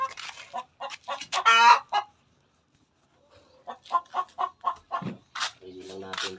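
Chickens cluck repeatedly up close in short choppy bursts, with a louder squawk early on and a brief quiet gap before the clucking resumes.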